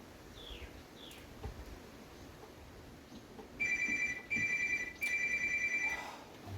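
A telephone rings in three bursts of electronic trilling, close and clear, with short gaps between them, inside a workshop during restoration of a 1989 Lincoln Town Car Signature Series interior.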